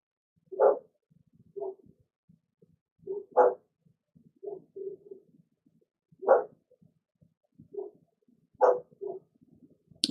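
A dog barks in short, spaced bursts, about ten single or paired woofs over several seconds, moderately near and alone against a quiet background, with a faint whimper between barks.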